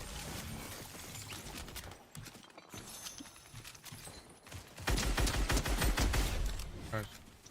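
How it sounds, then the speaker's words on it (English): Video game gunfire crackles in bursts under rumbling game noise, faint at first and then a louder, denser volley of rapid shots in the second half. "He's still up there shooting"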